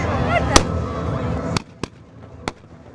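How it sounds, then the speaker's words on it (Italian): Gunshots fired from land during a pirate landing reenactment at a bay: several sharp, distant bangs spaced irregularly, the first over a busy crowd murmur that then thins out. "Gli spari degli inglesi da terra!"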